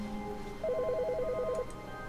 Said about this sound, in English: Whose phone's going off?